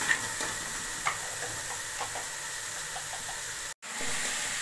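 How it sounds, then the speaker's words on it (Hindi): Potatoes fry in masala in a pan with a continuous close hiss and sizzle, with faint occasional ticks of stirring and a brief dropout near the end. "अब आलू ऐड करने के बाद मैं इसको अच्छे से भून रही हूँ।"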